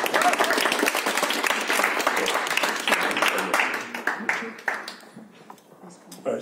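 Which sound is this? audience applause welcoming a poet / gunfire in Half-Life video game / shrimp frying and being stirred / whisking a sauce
audience applause welcoming a poet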